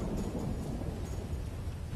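A bomb detonation in GTA V: a deep, rumbling blast with a rolling low-end roar that keeps going, like a big explosion echoing out, with no voices over it.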